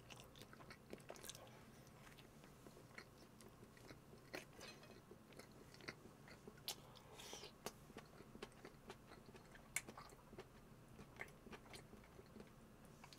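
Close, quiet chewing and biting of chive japchae flower rolls eaten with bread, with soft irregular crunches and mouth sounds repeating steadily and no talking.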